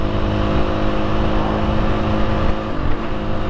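A Husqvarna TE310R dirt bike engine running steadily in sixth gear at road speed, loud and close, with a continuous drone and wind noise and no talking.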